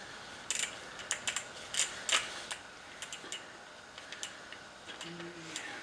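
A torque wrench ratchets while tightening head bolts on a Toyota Prius, giving irregular bursts of sharp clicks, some in quick runs and some spaced apart, close and fairly quiet against a faint background.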